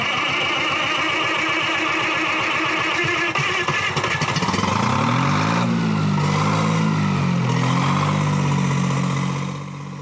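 A century-old Altman Taylor sawmill engine, cold-started after hours on block heaters, runs with a steady rhythmic chug before being throttled up into a rising, louder rev that holds near and continuous.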